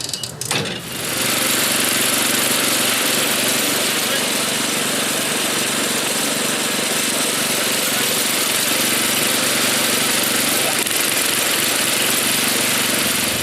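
A 1979 Toro 826 snowblower with an 8 hp Briggs & Stratton engine starts and runs, a loud, steady, close engine roar holding constant after a brief catch at startup.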